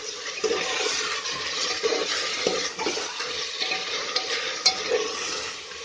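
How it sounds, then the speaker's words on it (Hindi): Mutton frying with browned onions in a pot, a soft continuous sizzle with irregular stirring scrapes and wet shuffling, close but moderate in level, with no talking. "अब इसमें मैं मटन डाल देती हूँ पहले, उसको मिक्स कर लेते हैं। 5 मिनट इसके साथ भून लेते हैं।"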